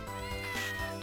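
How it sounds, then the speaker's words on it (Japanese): A cat in Castlevania: Order of Ecclesia gives a single clear, close meow, sustained and tonal, with no speech over it. "あ、なんか猫がいる。"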